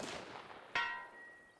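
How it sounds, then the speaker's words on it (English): Rifle shot striking a steel gong in the Arma Reforger video game, a single sharp metallic clang followed by a bright ringing tone that decays over about a second, after a faint whooshing lead-in. "there's a gong out there that I'm going to take a couple shots with and try hit"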